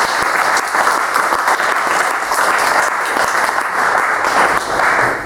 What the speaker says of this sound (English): just like to give them a round of applause just for being here tonight